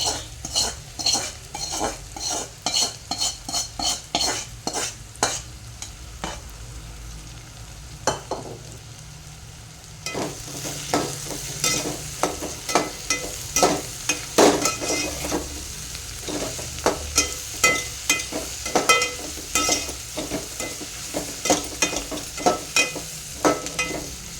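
Oil sizzling in a pan while egg curry is cooked, with repeated loud metal spoon scrapes and clanks against the pan in an irregular stirring rhythm over a constant close frying hiss.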